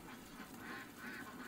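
Ducks on a farm quack softly at a distance in a few slow, nasal calls over steady background noise.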